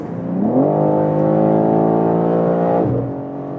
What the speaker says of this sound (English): That 3-liter inline 6-cylinder is a gem.